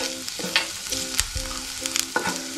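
Onion, garlic and ginger frying in a pan for masvadi, a steady close sizzle with repeated scraping stirs over it.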